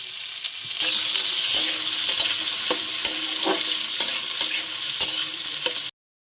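Chopped onion with dried red chillies frying in white oil for chicken kosha, a close steady sizzle broken by regular scrapes and taps of a spatula, stopping abruptly before the end.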